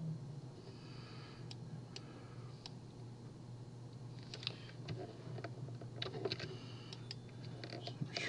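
Soft, irregular keystrokes on a computer keyboard while quiz items are typed, sparse at first and denser later, close and quiet over a steady low hum, without speech.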